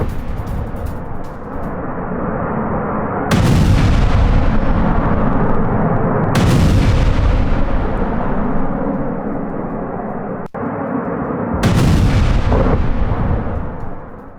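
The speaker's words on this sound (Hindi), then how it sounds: "एक साथ राजधानी कीव के कई इलाकों में रूस ने बमबारी की," Heavy bombardment during a Russian attack on Kyiv rumbles as repeated deep, booming explosions, three major blasts rolling out over a sustained roar, with a sharp crack in between and no talking.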